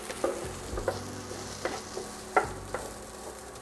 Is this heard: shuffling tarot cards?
no